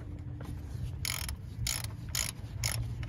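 Socket wrench ratcheting in four short bursts while removing the serpentine belt tensioner on a 1996-2001 Ford Ranger 2.5, close and crisp over a low engine-bay hum.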